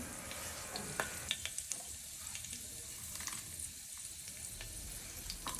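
Cumin seeds sizzle in hot oil in an Indian home kitchen, a soft steady crackle with scattered sharp pops, faint and close, with no voices.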